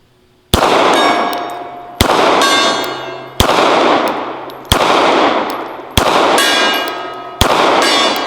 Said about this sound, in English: Let's wake up the gong with the old Beretta.